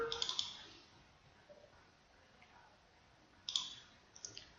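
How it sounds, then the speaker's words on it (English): Mouse clicks while saving an Excel spreadsheet, a few quick, faint clicks at the start and another small cluster near the end with quiet room tone between. "So I click my save button, browse, make sure I select the correct folder"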